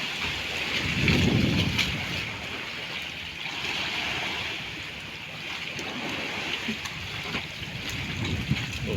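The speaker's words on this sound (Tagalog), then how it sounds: "Ulan na" Rain at sea around a fishing boat, a steady broad hiss of drops with soft surging water beneath, continuous and fairly loud with no talking.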